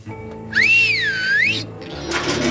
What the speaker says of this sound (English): How's your whistle, Charlie? Pretty good. Let her rip